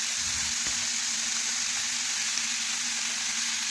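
Cabbage and onion fry steadily in a pan with a constant broad hiss and a low hum underneath, the sizzle even and unbroken throughout, with no voices.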